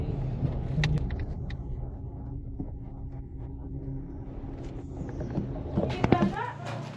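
Traffic on a highway rumbles steadily around a vehicle with a low, continuous roar, and scattered clicks and knocks rise near the end; faint voices sound in the background.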